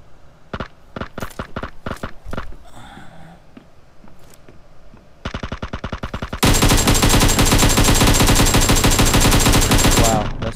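Gunfire in PUBG Mobile: several spaced single shots first, a short quiet stretch, then sustained automatic bursts, loud and close, with heavy continuous fire over the last few seconds.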